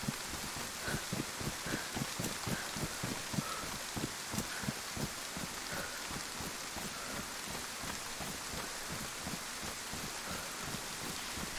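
Steady rain pours down across a video game map, a dense, even hiss with patter on surfaces running throughout, with no voices and a faint low rumble underneath.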